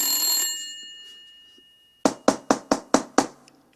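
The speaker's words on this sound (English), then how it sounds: "the phone rang as soon as I had gone to the bathroom" A telephone rings indoors at home, the tonal ring fading out over about half a second, followed after a pause by a quick series of six sharp, close knocks.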